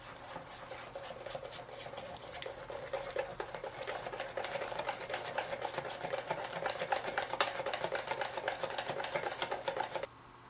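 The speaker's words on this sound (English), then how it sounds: "Whisk well." Crepe batter being whisked with milk in a bowl: a quick, continuous clicking and tapping of the whisk, growing busier and louder toward the end before stopping suddenly.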